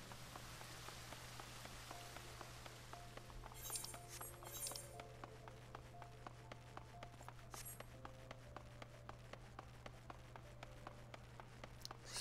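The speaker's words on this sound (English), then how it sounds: "Still raining." Rain falls in the video game Final Fantasy XIV: A Realm Reborn, a soft steady patter with scattered drips and faint in-game footsteps and clinks, under a constant low hum and with no talk.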